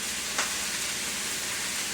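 Chuck-eye steak searing in a hot pan before braising: a loud, unbroken sizzle with dense crackling close up and one brief sharper pop near the start.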